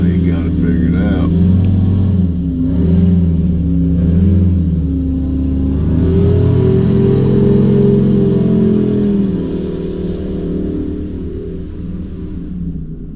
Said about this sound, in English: Let's see what happens with this other airboat now